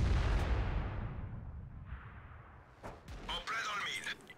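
An artillery gun in the World of Tanks video game fires a single loud, booming shot that rolls off in a long decay, with a few sharper cracks and bursts following near the end.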